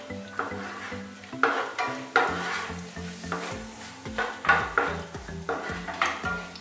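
Raisins frying in hot oil for a carrot dish, a steady sizzle broken by repeated scraping stirs and clinks of a spoon against the pan, close and fairly loud, with no voices.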